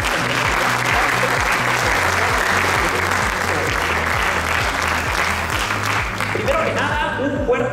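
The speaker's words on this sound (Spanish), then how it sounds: "Vamos a darle un aplauso a estos titanes del mercado" A crowd's sustained applause rolls on at full loudness over a thumping, steady bass beat of music, with a voice emerging faintly as the clapping eases off at the end.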